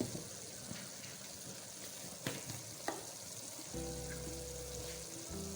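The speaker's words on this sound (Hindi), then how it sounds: "इसको हम अच्छी तरह से भून लेंगे, स्मेल वगैरह ख़त्म हो जाए" Turmeric and spices frying in a pan for aloo qeema, a steady soft sizzle running throughout, joined near the end by a low hum.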